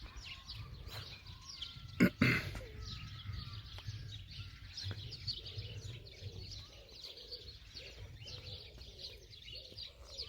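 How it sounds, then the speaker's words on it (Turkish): Repeated bird chirps and tweets in a garden in the Netherlands over a low ambient hum, interrupted by a sharp knock or clatter near the start. "kuş sesleri,"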